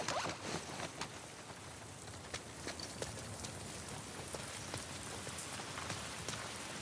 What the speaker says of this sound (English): I really do like the sound of the rain in this game